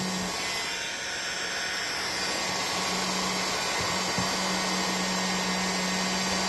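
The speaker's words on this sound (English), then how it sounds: "So I'm going to fire up the heat gun, warm this up, try not to cook the spring." Heat gun blowing hot air onto a Seeburg jukebox mechanism to loosen hardened oil and grease, a loud steady whooshing roar with a constant electric hum that runs unbroken through the whole stretch, with no talk.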